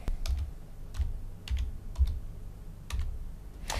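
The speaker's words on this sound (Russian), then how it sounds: "Для его запуска нужно набрать в командной строке вашей операционной системы буквы" Computer keyboard keys clatter in short bursts while a command is typed into an operating system command line, moderately close and clear, with no voices.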